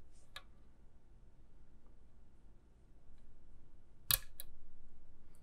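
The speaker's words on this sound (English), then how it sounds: "You see it click over into a deeper false set." A Schlage Everest KIK lock cylinder gives a sharp, close click while being picked as it drops into a deeper false set, followed by a couple of fainter ticks over quiet background hiss.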